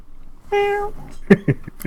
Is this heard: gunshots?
no